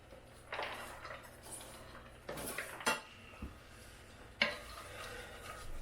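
Celery and leeks going into a pan for squash risotto, with a few sharp clinks and scrapes of a utensil against the pan and quiet stirring between them, close and fairly faint.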